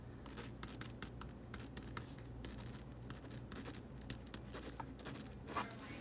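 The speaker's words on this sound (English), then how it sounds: "There's a little bit of texture, as you could hear, sometimes with the ballpoint." A Pilot Better ballpoint pen writing on a cutting pad, giving a close, scratchy, textured scrape with rapid irregular strokes and small ticks, steady over a low background hum.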